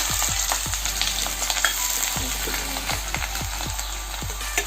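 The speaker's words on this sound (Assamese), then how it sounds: "তেলখিনি গৰম হ'লেই এতিয়া পিঁয়াজ আৰু ৰচুন আদা দি দিছোঁ।" Chopped onion, garlic and ginger hit hot oil in a kadai, giving a continuous loud sizzle with sharp clicks and taps of a spatula stirring at irregular intervals.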